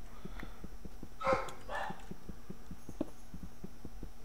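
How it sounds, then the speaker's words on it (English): A dog in Minecraft barks once or twice, moderately loud and short, over a steady soft clicking pattern and quiet background hum. "if she keeps barking, I'm just gonna come back in a few minutes."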